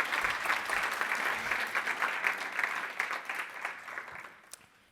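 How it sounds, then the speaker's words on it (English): Audience applause at a B2B marketing conference session in London, a dense steady wash of clapping from a large room that holds strong for several seconds before thinning and fading out at the end. "would like to give Debbie a round of applause"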